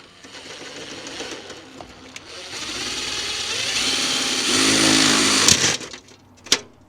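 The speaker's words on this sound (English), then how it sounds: "So I'm going to drill a hole here because I want the Ethernet cable to come down" A power drill boring a hole through a building wall outdoors to route an Ethernet cable, a steady whirring grind that builds in intensity and pitch, then cuts off with a couple of sharp knocks at the end.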